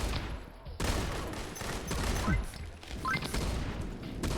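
Rapid bursts of shotgun fire in a shooter video game, several loud blasts clustered together with crashing impacts and debris noise, dense and continuous through most of the stretch.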